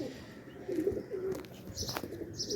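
Pigeons coo in low, repeated throaty calls close by, with a few faint chirps and light rustling in the background.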